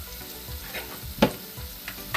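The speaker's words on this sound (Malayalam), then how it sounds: "ഇതൊന്ന് നന്നായിട്ട് വഴറ്റിയെടുക്കണം." Garlic, crushed ginger and split green chillies sauté in a pan for a buttermilk curry, a soft, close sizzle with a few sharp pops and spatters over a couple of seconds.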